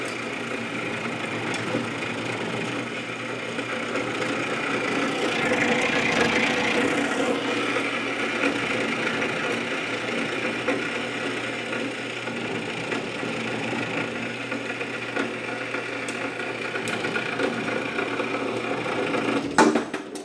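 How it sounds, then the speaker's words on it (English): A PM-712G metal bandsaw with coolant running cuts through a barrel, giving a steady grinding hum that keeps going with a gentle rise midway and a brief clatter as it ends. "We'll ease it down to where we're gonna start cutting and let it rip."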